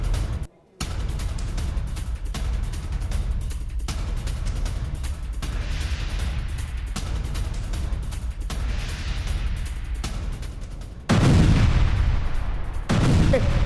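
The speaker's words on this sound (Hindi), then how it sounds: "ईरान मेड अल्मास ATGM से उड़ाया टैंक" An Iranian-made Almas anti-tank guided missile strikes an Israeli tank in combat, with continuous rumbling, crackling battle noise followed by a sudden loud, heavy blast near the end.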